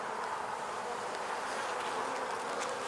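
Honeybees buzz inside an open beehive during an inspection, a steady, close, droning hum of many insects that holds evenly throughout.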